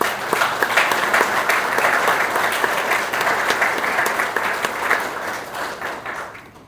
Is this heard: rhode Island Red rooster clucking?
no